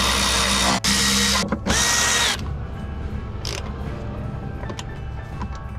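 A power drill drives 5 mm Allen bolts into a Kspeed KS2 offshore ride plate on a watercraft, three loud close whirring bursts in quick succession, then a quieter rattling workshop tail.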